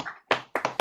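A short burst of hand claps for a magician guest on a studio interview show. The sharp slaps arrive in uneven clusters and sound close and fairly quiet, with no talking.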